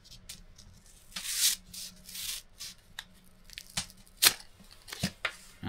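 A knife cuts through a stack of twelve layers of paper, making close rasping, tearing strokes with a few sharper crunches. The strokes come in an irregular rhythm, and no one speaks over them.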